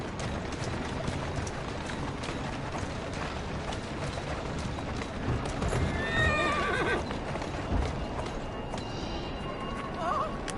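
A horse pulling a carriage in Assassin's Creed Syndicate whinnies over the steady clip-clop of hooves and rolling wheels, with a second shorter neigh later amid continuous background noise.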